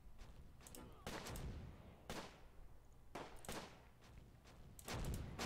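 Heavy mortar fire in the WWII strategy game Close Combat at the Battle of Mouen near Caen: a run of loud, booming impacts and blasts arriving in quick succession, with rumbling decay between them.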